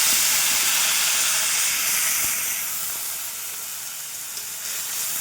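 Ginger paste hisses and sizzles loudly as a little water hits a hot pan where fish was just fried; the steamy crackle is strongest at first, then eases to a softer steady fizz.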